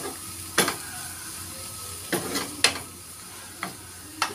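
Egg bhujiya frying in a pan with little oil, a low sizzle running throughout while a utensil stirs and scrapes in a few sharp, irregular strokes, close and fairly quiet.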